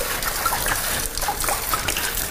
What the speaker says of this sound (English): Okay, so I got my box wine running on that side.